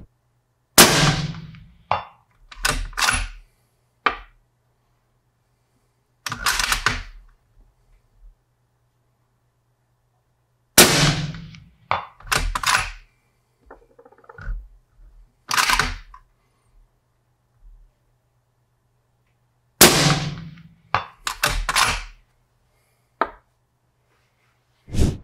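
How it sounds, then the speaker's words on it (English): Three sharp, loud gunshots from a 6 PRC Primal rifle with a 26-inch barrel firing 110 grain A-Tip bullets, each crack followed by metallic clatter and handling noise, with long silent gaps between shots. "let's get into a 6 PRC Primal with a 26-inch barrel shooting 110 grain A-tips."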